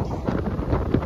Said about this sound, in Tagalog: Lakas pala ng hangin.